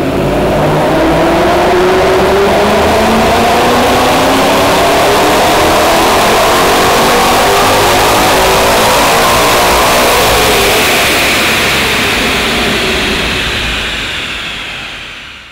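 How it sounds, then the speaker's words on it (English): Vortech supercharged 2011 Mustang GT revving on a dyno, a loud sustained pull with engine pitch climbing steadily alongside a rising supercharger whine, then fading away at the end. "We're going to put it on the dyno and see what kind of horsepower and torque makes,"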